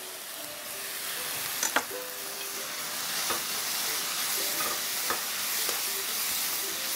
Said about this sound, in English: You just start sauteing some onions